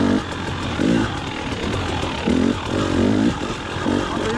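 A trials motorcycle engine idles nearby with repeated short throttle blips, its rough putter rising and falling every second or so.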